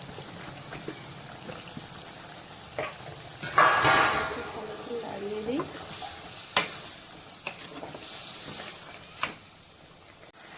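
Eggplant and shrimp stir-fry in a pan with a steady sizzle and frying crackle, punctuated by a few spatula scrapes and stirring clinks against the metal, with a brief spoken remark over the cooking.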